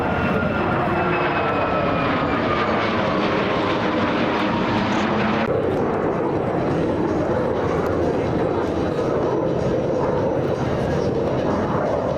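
A U-2 spy plane with bicycle landing gear and a 104-foot wingspan comes in to land at an air show, its jet engine roaring steadily loud and close, with the tone shifting midway and a voice talking over it.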